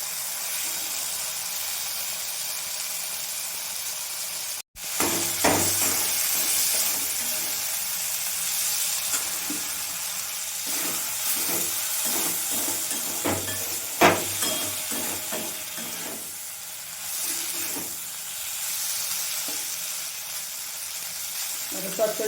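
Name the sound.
okra being stirred and fried in a pan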